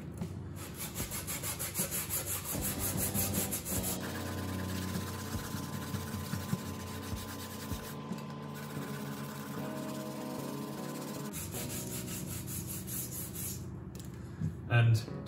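Hand sanding of a wire-edge panel with a piece of old sandpaper, a steady raspy scraping that runs continuously and close up, shifting in texture partway through.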